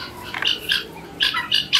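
Guinea fowls on a small urban farm give rapid, harsh squawking calls in short bursts, close and fairly loud with a constant hum of background noise.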